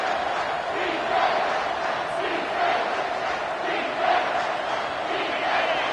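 A loud stadium crowd roars continuously at a Penn State college football game on third down, a dense sustained wall of cheering and shouting with small swells throughout.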